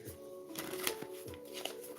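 A deck of tarot cards being shuffled at close range during a live reading, with soft rapid riffling and flicking repeated over a few seconds, fairly quiet and alone.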